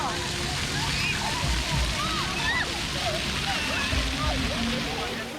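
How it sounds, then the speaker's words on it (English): Water spurts and splashes continuously from a fountain jet outdoors, loud and close, with voices and chatter carrying over the rushing spray. "There's some water shooting out right here in a spurter, boy."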